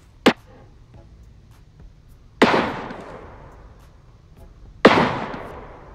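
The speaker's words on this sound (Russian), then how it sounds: "Так, кто-то стреляет." Gunfire in the video game Badlanders: three separate sharp shots spaced about two seconds apart, each a loud crack with a trailing echo fading into quiet between them.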